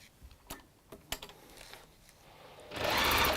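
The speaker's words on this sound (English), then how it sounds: "you're going to sew your 2 rows together" A sewing machine stitches two rows of fabric together, with a few clicks and taps of setup before the motor whirs up loudly and steadily at the end, close by.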